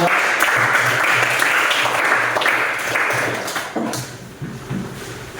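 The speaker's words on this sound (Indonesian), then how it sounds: "Beri aplaus untuk kelompok 2." A classroom of students applauding a discussion group, giving dense, fairly loud clapping that holds steady for several seconds before thinning into scattered claps.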